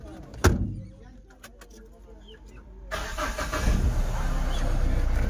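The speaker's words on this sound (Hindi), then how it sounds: "हमार गाड़ी चल रहा है" A car moving along a road on a hot day, heading toward Hirapur village for a play; a door-like thud comes first, then steady engine and road noise rises and holds close, with some faint voices.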